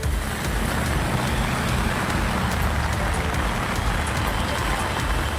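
Heavy rain falling in Puducherry, a dense constant hiss and patter that fills the whole stretch, with a low rumble that may be road traffic underneath and a voice talking over it.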